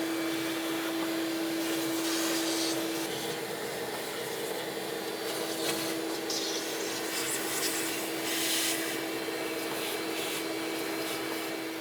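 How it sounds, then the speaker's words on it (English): A vacuum cleaner runs continuously up close with a steady whine, its tone shifting slightly as it sucks debris from around the valve cover on a Ford Transit 250 engine, with occasional scraping rubs. "I'm just going to use a vacuum. I'll try to remove as much debris as possible."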